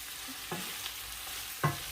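Smoked meat frying with onions in a pot, a soft continuous sizzle with a couple of brief stirring scrapes and knocks, quiet and close with no talking.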